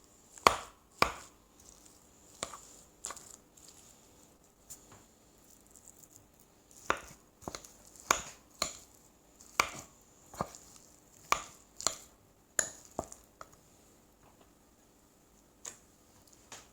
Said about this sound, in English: and then the final bit of mashing and mixing